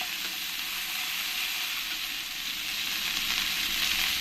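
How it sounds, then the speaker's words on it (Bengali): Ginger paste frying in hot oil, a steady loud sizzle that holds evenly throughout with no talking. "আদা পেস্টটুকু দিয়ে দেব দিয়ে ভালো করে একসঙ্গে ফ্রাই করে নেবো"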